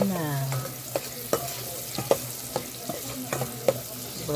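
Crab being sautéed with onion and garlic in a pan: an even frying sizzle broken by regular spatula knocks and scrapes, roughly two per second, close up.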